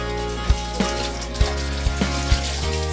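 Water runs steadily during house renovation work, a continuous close wash broken by several sharp knocks and clunks.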